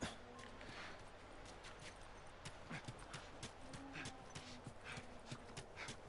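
Horses clip-clop in a quick, irregular stream of hoof knocks, faint and somewhat distant, with no talking over them.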